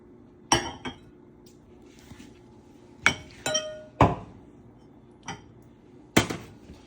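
A bowl is taken out and dishes clink in a kitchen while poached eggs are made: about six sharp glassy clinks and knocks, close and fairly loud, spaced irregularly with quiet gaps between them.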